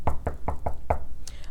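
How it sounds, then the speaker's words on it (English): Five evenly spaced knocks land on a brick house door, sharp and close, followed by a brief faint sound at the end. "I knocked on the brick house."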